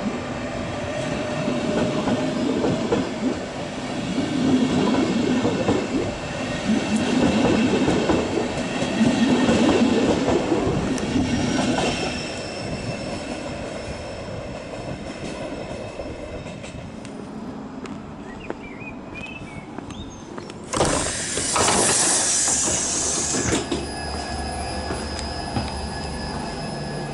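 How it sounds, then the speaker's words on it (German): Regional passenger train (Regionalbahn) heading to Heilbronn rolls on rails with a steady rumbling ride and rhythmic clatter, shifting to a brighter hiss and squeal near the end; no voices. "fahre ich jetzt mit der Regionalbahn nach Heilbronn schon mal"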